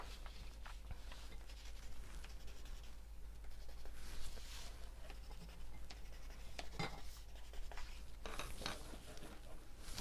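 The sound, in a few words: pencil marking fabric quilt pieces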